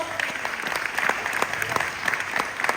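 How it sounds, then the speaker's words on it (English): A crowd at a city budget town hall in West Philadelphia claps steadily in sustained applause, dense and even, without voices standing out. "give all of our agencies a round of applause"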